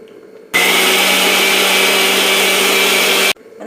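A kitchen mixer grinder grinds grated coconut with cumin seeds, its motor whirring loud and steady for about three seconds before cutting off abruptly.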